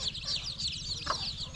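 Chickens on a desi chicken farm with young chicks give soft, faint clucks and chirps in a steady murmur, with one slightly louder call partway through.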